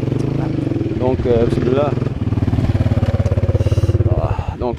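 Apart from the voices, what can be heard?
KTM 450 SXF Factory Edition motorcycle engine on test ride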